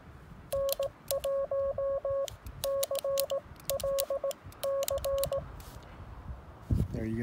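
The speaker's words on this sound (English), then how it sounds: "we'll get tones here, dashes and dots" A phone on a mountain summit sends a call sign in Morse code: crisp, steady beeping tones in a clear pattern of dots and dashes, with short gaps between groups, heard close over a hissy, breezy background.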